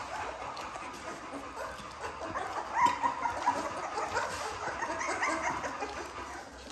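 Puppies yip and whimper in a steady, busy chorus close by at feeding time with raw ground beef, high-pitched barks and whines overlapping throughout.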